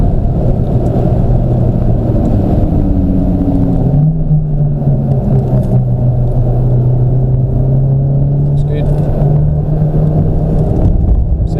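Loud, continuous engine roar from inside a race car on track, the pitch rising and falling as it shifts and accelerates through corners.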